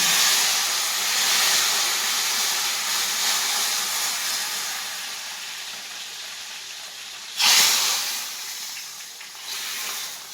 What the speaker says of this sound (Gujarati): અને હવે ડાયરેક્ટ આપણે ઢોકળીમાં નાખી દેવાનો વઘાર.